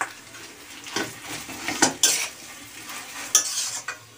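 Mashed potato is stirred into fried ginger in a pan for an egg devil filling: a spoon scrapes and clinks against the pan in irregular strokes over a soft sizzle, close and unaccompanied by talk.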